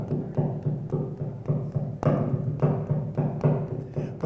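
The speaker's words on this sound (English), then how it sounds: "This principal flute you're going to hear to perfection tonight." Principal flute over percussion with occasional pizzicato string chords from Britten's opera The Turn of the Screw, a loud, evenly pulsing texture of repeated rhythmic figures with no voices over it.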